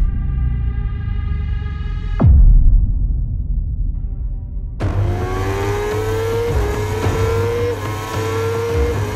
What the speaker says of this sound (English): And Axel Bassani has fired his way through from the 2nd row of the grid to lead into the first turn.